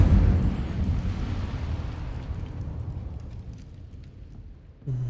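Incendio fire spell cast in Hogwarts Legacy, a loud roaring burst of flame that swells at once and slowly fades over several seconds before a fresh rumble cuts in at the end.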